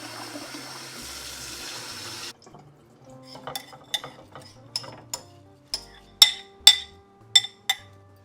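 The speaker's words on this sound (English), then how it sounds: "I'm gonna rinse and wash the rice until the water is clear." Rice is rinsed and washed by hand in water, opening with a couple of seconds of running tap water, then a series of sharp, close splashes and clinks of grains and water in a bowl at an uneven rhythm.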